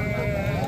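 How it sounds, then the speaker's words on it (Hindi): Sheep at a livestock market give a brief, close bleat under a steady din of voices and crowd noise. "काफ़ी खूबसूरत भेड़ें हैं ये"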